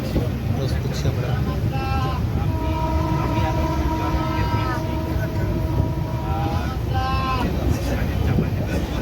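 The Kanchan Kanya Express runs past Dankuni, heard from on board as a loud, steady rail rumble, with a drawn-out horn blast in the middle and another near the end.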